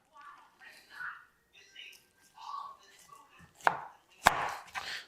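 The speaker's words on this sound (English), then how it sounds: "find that joint with my knife, and then I'll cut off the femur" A knife works through the joint of a deer's back leg at the femur during home butchering, giving soft scraping cuts, then two sharp cracks near the end, with quiet speech-like murmuring throughout.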